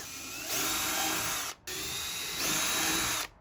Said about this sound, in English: drill some pilot holes with a small drill bit